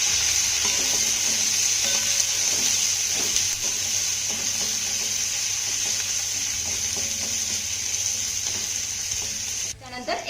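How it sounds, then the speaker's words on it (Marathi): Finely sliced onion is stirred into a hot pan and fries with a steady, close sizzle, punctuated by scraping stirs of a spoon, continuing for about ten seconds before briefly easing at the end. "नंतर एक कांदा उभा बारीक चिरून घेतला आहे यामध्ये घालूया त्यानंतर कांदाही छान असा मिक्स करून घ्यायचा आहे"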